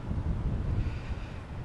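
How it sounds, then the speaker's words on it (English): Strong wind buffeting a microphone outdoors on a field being prepared for seeding, a steady low rumble that gusts throughout without pause and with no voices. "It's so windy."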